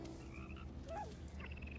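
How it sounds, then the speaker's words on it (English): Frog croaking in a scene from The Mandalorian, a few short chirping croaks heard clearly over a steady low background hum, with no talking. "Baby Yoda got his frog."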